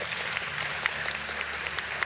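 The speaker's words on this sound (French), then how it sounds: "ils peuvent applaudir déjà les 5 intervenants" An audience at a talk on poverty, inequality and human rights applauds five speakers, a dense, steady round of clapping from a sizable crowd with a few sharper individual claps standing out.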